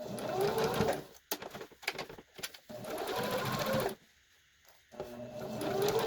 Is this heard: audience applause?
no